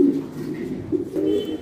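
Imported fancy pigeons at a loft coo softly and steadily, low rounded notes repeating close by for under two seconds with no talking.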